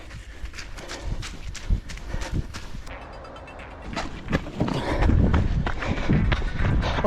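A horse trotting on a mountain running trail, its hooves thudding in an irregular clip-clop rhythm close by alongside heavy rustling movement, loud and continuous with no talk.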